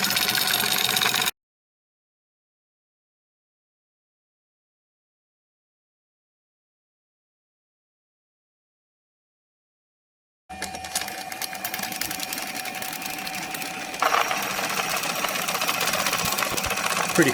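A magnetic top spins in a 3-phase AC field, whirling in a flat spin at 15 hertz, heard as a loud, steady buzzing whir with a constant hum after a stretch of complete silence.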